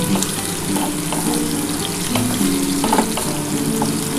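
Onions frying in a pan until reddish-brown for a spicy Bengali chicken kosha, with a close, steady sizzle and scattered scrapes and taps of a stirring spoon, no voices.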